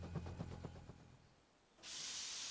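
Thomas the Tank Engine gives a soft, rhythmic chuffing that fades, then a loud, steady rush of hissing steam.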